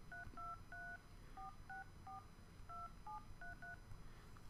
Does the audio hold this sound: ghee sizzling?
no